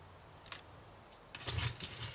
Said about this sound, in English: this big key right here lets me in to go to work